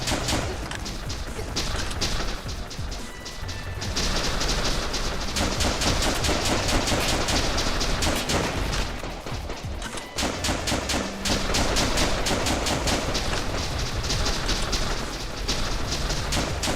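Dense, continuous gunfire fills the 2014 Japanese first-person shooter The Legend of Alfur, loud rapid bursts running almost without pause, broken by brief lulls.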